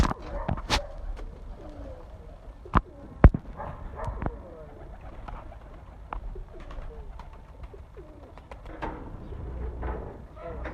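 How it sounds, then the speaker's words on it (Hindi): Fakir Gul pigeons from an ustad's breeding loft in Jhelum coo in soft, repeated low rolls, close by, with sharp clicks and knocks and people talking over them. "कबूतर है जी हमारे उस्ताद के घर के फ़कीर गुल कबूतर हैं"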